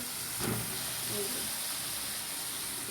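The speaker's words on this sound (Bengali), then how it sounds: "এই যে তেলে কষাইতেছি মশলা টশলা দিয়ে" Pointed gourd frying in oil with turmeric and spices, a steady loud sizzle and hiss from the pan throughout, close by, with faint stirring.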